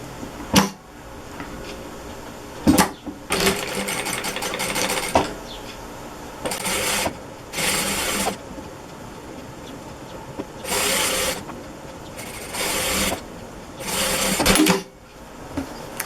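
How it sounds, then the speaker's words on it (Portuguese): A sewing machine stitches lace onto a dish towel in several short runs of rapid whirring, separated by quiet pauses and a couple of sharp clicks. "E vou costurar aqui."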